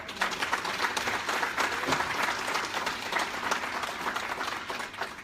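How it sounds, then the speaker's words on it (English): A room full of people gives a round of applause for Dame Elizabeth at a Nigerian Nurse Charitable Association UK gathering, a sustained, even clatter of many hands at moderate volume with no voices on top. "I'd just like to offer Dame Elizabeth a round of applause, please."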